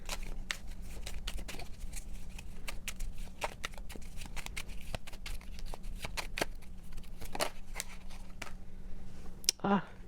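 Rapid riffling and snapping of tarot cards being shuffled, a dense run of crisp clicks over a low steady hum, ending with a couple of sharper taps.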